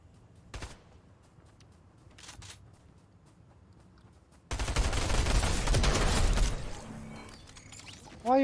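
Gunfire in the video game Fortnite: a burst of rapid shots erupts midway and runs for about two seconds, loud against quieter game ambience, after a few faint isolated pops earlier.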